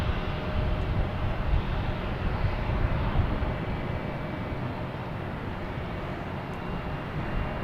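A Delta airliner at Boston Logan Airport, bound for Fort Myers, gives off a steady, broad jet-engine roar at moderate distance. The sound holds fairly even and eases slightly over the span, with no talking.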